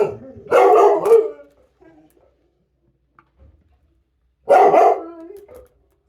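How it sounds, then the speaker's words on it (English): Dogs barking nearby, two loud, separate bursts of barking with near silence between them, heard while guitar pickup wiring is being threaded. "the dogs decide that now's a good time to bark"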